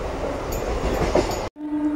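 A Hyderabad MMTS local train rolls along with steady broadband rumble and rail noise, then the sound cuts briefly and returns as a quieter hum with a steady tone, as if pulling into a station.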